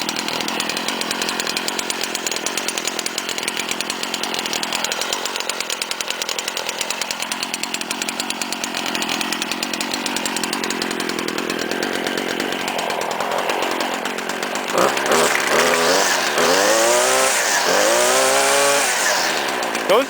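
A Stihl string trimmer engine running after a warm start, a loud, steady high-pitched two-stroke whine that revs up and down near the end, close to the listener with no talk.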